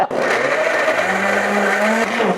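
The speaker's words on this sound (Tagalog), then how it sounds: "Lagay natin yan dito sa blender. I-blender natin yan." An electric blender runs steadily, whirring loudly as it purées ingredients with water for a Filipino sinigang soup base, its pitch rising slightly as the load changes over a few seconds.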